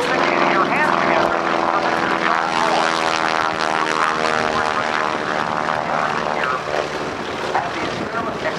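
Propeller aerobatic airplane at the 2008 NAS Oceana airshow, its engine a loud, steady droning roar with shifting pitch as it holds an upside-down attitude, close and continuous.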